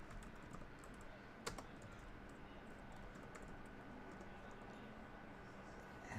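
Faint typing on a computer keyboard, a scatter of soft keystroke clicks with one sharper tap, quiet and close in an otherwise hushed room.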